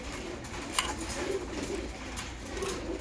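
Giribaz pigeons in a breeding loft coo softly and steadily, a faint low burbling that continues throughout against light background noise.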